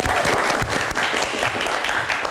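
Audience applause for Dokter Ayu on a live Indonesian talk show stage, dense and steady clapping from a studio crowd filling the whole moment without pause.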